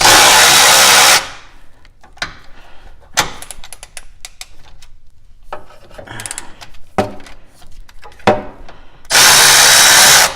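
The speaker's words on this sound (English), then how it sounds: "now I've got all 4 bolts loosened up" A power tool loosens 15 mm sway bar bolts on a 1982–92 third-gen Camaro, with loud sustained buzzing bursts at the start and end and scattered metallic clicks and rasps between.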